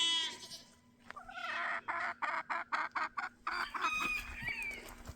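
A chicken clucks in a rapid, evenly spaced run of short bursts while walking on a farm with sheep nearby, close and clear, with a higher squawk rising at the end.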